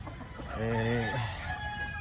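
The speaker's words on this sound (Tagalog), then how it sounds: "Ito yung mga manok na malalambing na tumutungtong sa ulo natin mga boss." A chicken gives a drawn-out, warbling cluck close by, rising and falling for about a second amid light background noise, after rain in muddy ground.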